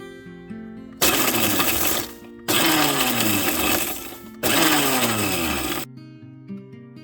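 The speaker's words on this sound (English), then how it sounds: "I'm gonna pulse it in my mixie jar and add it to the top." A mixer grinder jar pulses honey graham crackers into crumbs: three loud, close whirring bursts of the motor, each lasting one to two seconds, separated by short pauses and ending in quiet.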